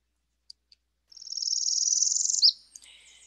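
A northern parula sings alone: a rapidly pulsed, rising buzzy trill like a zipper, ending in a sharp upturned note, with a few soft chips before and after.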